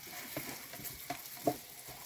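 Tortillas fry in a pan for red chilaquiles, a soft low sizzle with a few light crackles and pops and faint stirring, close by and quiet.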